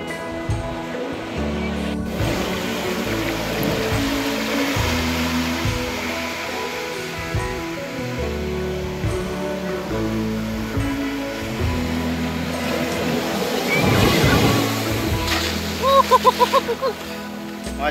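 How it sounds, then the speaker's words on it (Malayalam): Sea waves roll in steadily at Varkala cliff beach in Kerala, a loud continuous surf roar that swells toward the end, with crowd murmur and brief voices in the background. "വലിയൊരു തിരമാല വരുന്ന"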